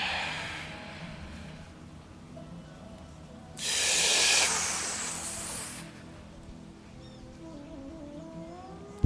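A slow, deep breath: soft airy inhale, then a loud broad rush of exhaled air lasting about two seconds, with quieter background before and after.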